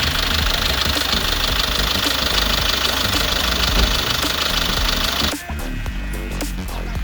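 A 2021 SsangYong Rexton Sports 2.2 diesel idling with its hood open, close and loud, a steady clattering knock and hum with no talk, dropping slightly in level near the end.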